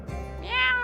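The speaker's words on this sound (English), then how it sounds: "That's a lot of freaking meowing." A cat in the game Hardspace: Shipbreaker gives a single short, rising meow, close and clear with no talk over it.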